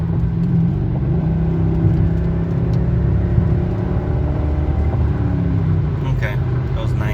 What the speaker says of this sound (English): I'll boot it here a little bit and y'all can hear what the engine sounds like when I get into it